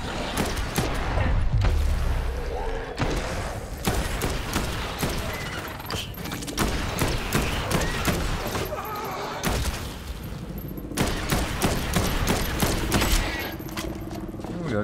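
Rapid bursts of gunfire from the zombie game Dead Island 2, repeated loud volleys with short gaps across the whole stretch, mixed with game sounds and heavy impacts.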